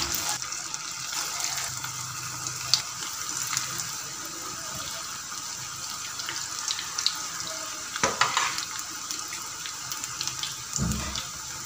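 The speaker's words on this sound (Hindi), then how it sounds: "अब हम इसमें पकोड़े डालने स्टार्ट करते हैं।" Egg, potato and onion pakoras frying in hot oil in a kadai over a medium-high flame: a steady, dense sizzle with fine crackling throughout, and a few sharper pops and splutters near the end.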